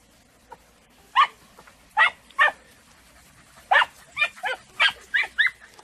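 Andalusian podenco hound puppy barking out in the open, a string of about ten sharp, high yelping barks in irregular bursts, fairly close and clear over a quiet background.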